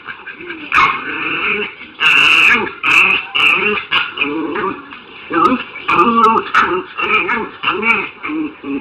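A jealous dog growls and grumbles in repeated low, throaty bursts with a few whimpering yips, close and fairly loud, with no talk over it.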